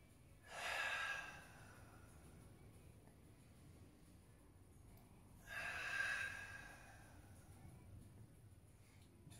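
Two slow breaths during a mobility coaching exercise, each a soft airy rush lasting about a second, spaced several seconds apart, close and fairly quiet with low room hum between.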